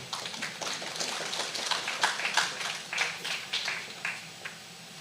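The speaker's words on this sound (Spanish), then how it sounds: "Un aplauso, por favor" Audience applause at a public forum on citizen protection, many hands clapping in a steady, fairly close patter that runs for the full stretch with small swells.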